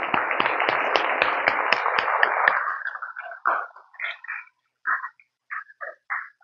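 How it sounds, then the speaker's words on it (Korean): Applause from a temple congregation at a Buddhist dharma service, a burst of clapping that fades out after about three seconds, followed by a few short spoken phrases. "박수 한번 보내주십시오."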